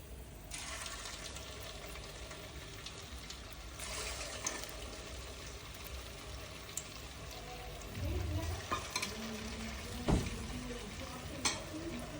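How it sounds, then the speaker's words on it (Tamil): Small cabbage Manchurian balls fry in hot oil with a steady low sizzle and bubbling, and louder crackling pops come near the end as more balls go in. "இப்போ எண்ணெய் நல்லா சூடான பிறகு நம்ம சின்ன சின்ன உருண்டையாக போட்டுக்கலாம்."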